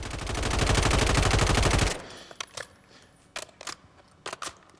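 A Tavor X95 (MTAR) rifle from Call of Duty Modern Warfare III fires a loud, rapid full-auto burst for about two seconds. Faint mechanical clicks and thumps follow as the burst cuts off.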